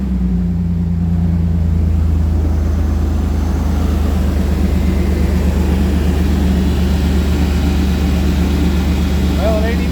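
A race truck engine fires up and settles into a loud, steady, rough idle, a deep continuous rumble heard close and alone for the whole stretch.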